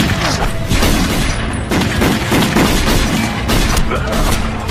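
Loud, continuous gunfire in a shootout between police and mafia: dense volleys of shots and heavy booms overlapping in rapid succession with no pause.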